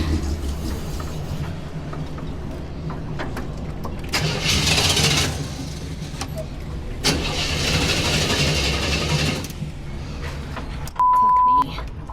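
A car engine cranks in two long strained bursts with a pause between them but never catches because the car is out of gas in its six-gallon tank, close by, with talk around it.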